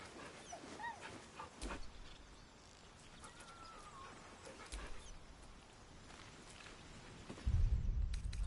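A dog whimpers and pants softly in Baldur's Gate, with faint short whines over quiet game ambience and a louder low rumble near the end.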